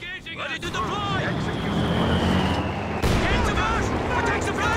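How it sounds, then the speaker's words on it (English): Heavy mortar fire and gunfire in the Company of Heroes 2 video game during a 2v2 match, with sharp blasts around 0.5 s and 3 s over dense continuous battle noise, and game speech underneath. "It's a heavy mortar doing."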